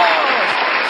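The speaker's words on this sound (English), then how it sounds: "That's real applause." Audience applause at a live mock draft event, a dense wash of clapping that stays steady and fairly loud for the whole second with no voices standing out.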